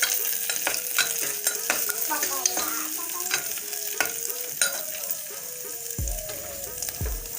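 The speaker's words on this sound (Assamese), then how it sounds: "মই কাজুখিনিও ইয়াতে দি দিম। এতিয়া অলপ ভাজি লম।" Carrots, vegetables and cashews fry in a pan for veg pulao, a steady close sizzle broken by repeated scraping stirs and clinks of a spatula, with no voices.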